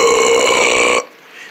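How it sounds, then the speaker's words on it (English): A loud, close burp from a person, one sustained eructation lasting about a second and then cut off abruptly, with only faint room noise afterward. "We both did a burp."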